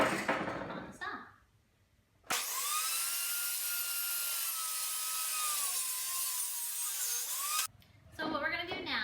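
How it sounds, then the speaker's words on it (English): A power saw cuts a wooden stair tread for a stair remodel, a steady whining buzz held for about five seconds, close and loud, with talk before and after the cut. "so I'm just going to go ahead and cut it on the saw"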